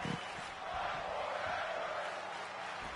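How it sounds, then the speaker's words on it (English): A wrestling crowd in an arena chants together, a dense, sustained roar of many voices with a rhythmic rise and fall, steady and loud throughout. "The crowd chanting "Fight Forever.""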